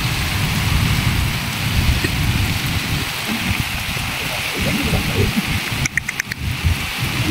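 Heavy rain falls steadily and loud as a broad wash of noise throughout, with a few brief crackling bursts near the end.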